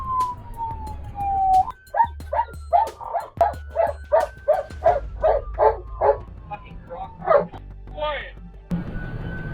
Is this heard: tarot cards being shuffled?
no